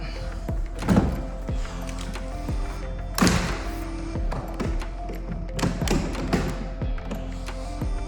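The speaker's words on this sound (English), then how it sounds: "Shut those doors up." Doors in a house being shut and latched produce several hollow thuds and clicks, each with a short rattle, spaced a few seconds apart over a low background hum.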